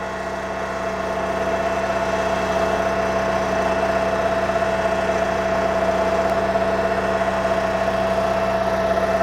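A BCS 630 WS walk-behind flail mower's engine runs steadily at close range, a constant droning hum with a sustained mechanical whine that holds evenly throughout with no breaks.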